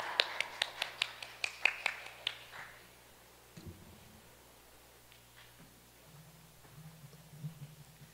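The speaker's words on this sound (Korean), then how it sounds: "여러분 힘찬 박수로 모시겠습니다." Conference audience at a 2022 carbon-neutrality international conference clapping: a short burst of roughly a dozen distinct, fairly quiet claps over the first two seconds that trails off into a low, quiet room hum.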